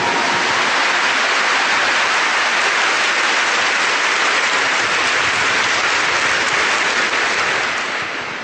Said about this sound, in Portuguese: Give a big clap to this great Pope.